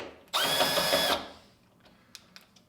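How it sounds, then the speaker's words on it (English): A cordless power drill driving a 1/4-20 screw into a threaded insert in a workbench whines in one short, loud, steady burst, then falls silent apart from a few small clicks and taps. "So I got these screws and I keep this drill handy."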